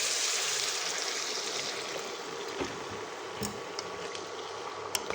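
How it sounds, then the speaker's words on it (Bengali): Water poured into a pan of cooked-down spicy mushrooms, a quiet rushing hiss that slowly fades into soft bubbling with a few small clicks, close by. "এবার জল দিয়ে দিচ্ছি।"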